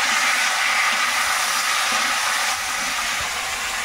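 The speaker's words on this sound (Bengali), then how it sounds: "এবারে পেঁপে আর আলুটা এর মধ্যে দেবো।" Papaya and potato pieces hit hot oil seasoned with panch phoron, setting off a loud, steady sizzle and hiss that softens slightly partway through, with no voices.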